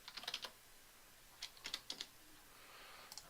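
Quick bursts of typing on a computer keyboard: two clusters of light, crisp key clicks, then a few final taps, fairly faint against a quiet room hiss with no talking.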